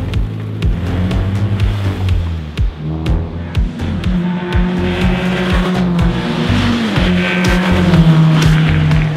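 Nissan Micra race cars roar around a racetrack, loud and close, their engine notes rising and falling as they pass one after another, with a few sharp clicks and tire noise in the mix.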